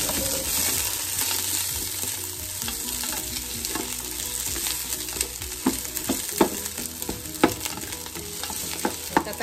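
Onions sizzle and fry in a pan alongside crabs, a steady hiss with scattered crackles and stirring scrapes throughout, close and fairly loud, with no talking.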